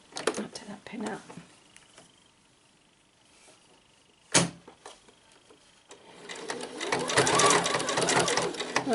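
Sewing machine stitching shirred elastic rows on a summer dress, with a brief start near the beginning and a loud sustained run of rapid stitching in the last few seconds, alongside a sharp click.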